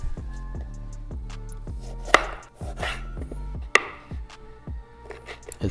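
A knife chops a lemon on a cutting board for a cocktail garnish, giving a run of close, sharp, evenly spaced thuds with a couple of louder knocks; no one speaks.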